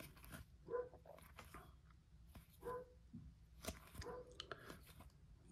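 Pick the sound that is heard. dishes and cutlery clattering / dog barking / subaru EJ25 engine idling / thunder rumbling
dog barking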